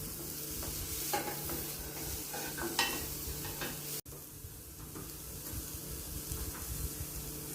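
Sautéed vegetables with cabbage for spring rolls crackle softly in a pan as a spoon scrapes and tosses them in uneven strokes, with a brief break midway before the quiet sizzling resumes.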